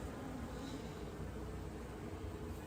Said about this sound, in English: there's bees everywhere here. There's so much activity in this hive.